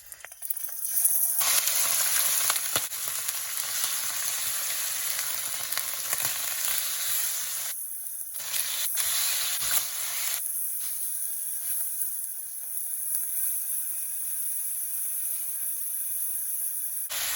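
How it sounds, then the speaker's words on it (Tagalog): Pork pieces fry in a hot pan for adobong sitaw, a steady bright sizzle that flares loud, drops briefly, then carries on evenly with no talking. "Fry muna natin ng pork guys."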